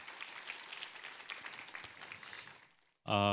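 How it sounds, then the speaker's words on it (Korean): A church congregation gives an encouraging round of applause at a Sunday worship service, a moderate, scattered clapping that fades out before a sudden loud burst of another sound cuts in at the end. "우리 함께 한번 힘찬 격려 박수 부탁합니다"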